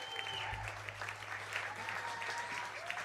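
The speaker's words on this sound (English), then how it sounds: "Let's get another big round of applause," Applause from a concert audience after a song at a live country and rockabilly show, a steady broadband patter of clapping, fairly faint and distant, with a low hum and traces of tones under it.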